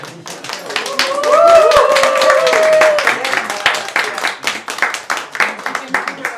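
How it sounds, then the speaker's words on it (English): An audience at a workshop session gives a round of applause, brisk clapping rising and holding for a few seconds before thinning into scattered claps, with a voice speaking over it. "So maybe a round of applause for the first."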